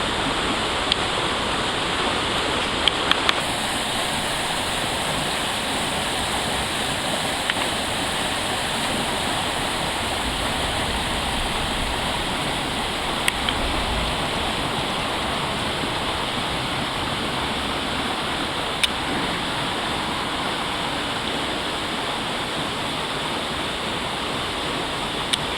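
River Carron pool on a late-October day, water rushing steadily through with a broad, constant roar and hiss like a weir or rapids, unbroken and fairly loud throughout, no voices.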